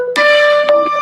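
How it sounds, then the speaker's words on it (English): A phone rings with steady electronic tones, sustained and fairly loud, with a brief break near the end. "I don't know if you guys can hear the phone ringing in"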